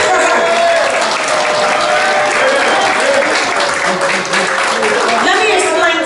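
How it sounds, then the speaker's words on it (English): Loud sustained applause and cheering from a crowd honoring a woman at a gathering, with a voice speaking over the clapping throughout. "Cheer for her."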